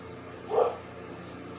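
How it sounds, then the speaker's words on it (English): A single muffled dog bark, fairly faint and distant, pops out once over a low steady background hum. "I think my dog has to go out"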